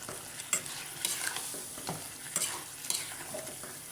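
Chicken meat stirred with spices in a frying pan: repeated scraping strokes and soft sizzle at a steady, unhurried rhythm, close up and with no talking.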